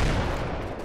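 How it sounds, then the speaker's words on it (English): A large explosion in the WWII strategy game Combat Mission: Red Thunder, booming loud and dense across the full clip with a sustained rumbling roll that stays heavy throughout. "Big explosion back there."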